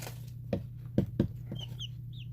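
Young chicks cluck and peep nearby in a few short separate calls over a steady low hum, with faint higher chirps toward the end and no speech.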